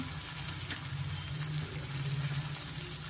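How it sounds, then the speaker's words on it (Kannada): Peas, beans, onion and other vegetables frying in a pan over a medium flame for hotel-style shavige uppittu, a soft continuous sizzle and hiss at low, even volume with no talking. "ಮೀಡಿಯಮ್ ಫ್ಲೇಮಲ್ಲಿ ಸ್ವಲ್ಪ ನಾವು ಫ್ರೈ ಮಾಡ್ಕೋಣ ಇವಾಗ ಇದಕ್ಕೆ ನಾನು ತರಕಾರಿಗಳೆಲ್ಲ ಸೇರಿಸ್ಕೊತೀನಿ"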